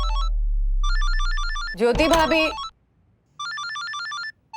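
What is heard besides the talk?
mobile phone ringing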